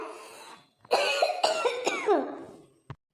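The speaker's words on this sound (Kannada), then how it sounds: "ನೋಡಲ್ಲಿ, ಕೆಮ್ಮು ಶುರು ಆಗಿದೆ" A person coughs in a short harsh burst of several hacks with a throat-clearing quality, close and fairly loud, followed by a quieter final cough.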